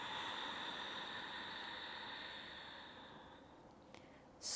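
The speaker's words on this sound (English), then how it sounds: "Full deep breath out." A slow, deep breath out through the mouth makes a soft, close airy whoosh that gradually fades, with a faint knock and a brief louder burst at the end.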